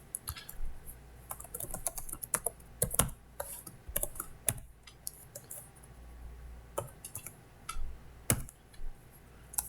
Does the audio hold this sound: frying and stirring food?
no